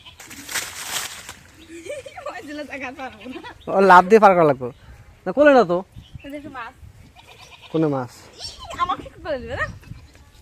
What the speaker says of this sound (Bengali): আমাদের ছাগল নিয়ে যাচ্ছি অফিসে